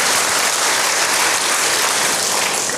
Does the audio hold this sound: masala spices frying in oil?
no